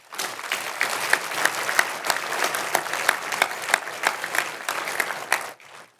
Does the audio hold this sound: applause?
yes